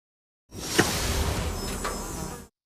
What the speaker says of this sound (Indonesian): Qin Chen mengeluarkan lebah pemakan ki untuk mencari jalan ke arah kolam iblis